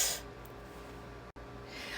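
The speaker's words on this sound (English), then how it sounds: "The noise that you hear, that high-pitched kind of noise, is actually an indication of tension when you're breathing." Tense, high-pitched breath drawn in by a flute player, a thin airy hiss running steadily through the clip with a brief break, fairly quiet and close, no talk.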